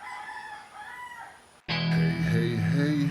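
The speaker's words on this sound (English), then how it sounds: "you can hear how loud the roosters are" Roosters crowing at 5 a.m. in the Philippines: faint, distant crows at first, then a sudden, much louder and closer crow bursting in over the quiet morning.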